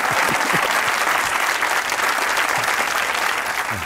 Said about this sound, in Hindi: एक बार तालियां होनी चाहिए जुनैद अकरम के लिए।